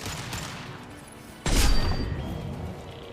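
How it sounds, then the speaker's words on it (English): Gunfire and a heavy impact in the sci-fi action game Mass Effect Legendary Edition: scattered shots, then a sudden loud blast or burst of fire that slowly fades. "We're taking too much fire."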